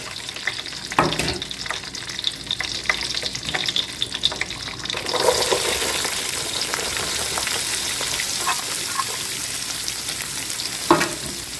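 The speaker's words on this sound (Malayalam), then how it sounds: "നമുക്ക് ഉള്ളി ഒന്നാലും നല്ലോണം ഒന്ന് ഫ്രൈ ആക്കി എടുത്താൽ ആദ്യം" Sliced onions frying in a pan already holding garam masala and curry leaves for Arabic chicken pasta; a steady close sizzle swells louder midway, with occasional stirring clicks and no voices.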